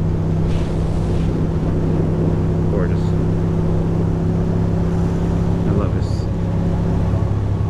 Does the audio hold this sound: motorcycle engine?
yes